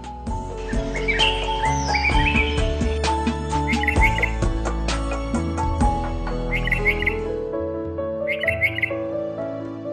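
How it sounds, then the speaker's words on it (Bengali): Bulbuls sing clear, tuneful phrases and chirps close by, with bright repeated trills over a quieter background of other bird calls. "আমাদের দেশে সুরেলা ডাকের পাখিদের মধ্যে অন্যতম বুলবুলি।"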